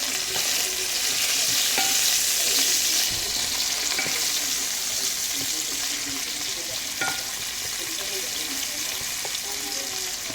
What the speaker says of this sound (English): I just love frying onion